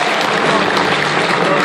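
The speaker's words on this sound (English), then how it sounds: "give me a big applause for Sam Jones" Loud, steady audience applause for guest Sam Jones at a talk-show table, a thick, continuous burst of clapping filling the whole moment.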